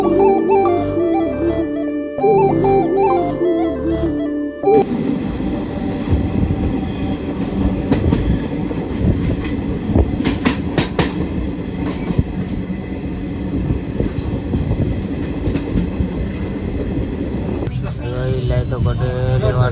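A passenger train on a trip to Tirupati, heard from inside a rail carriage: a steady loud rumble and rattle of wheels on track with clattering bursts, following a short burst of music, with people talking at times.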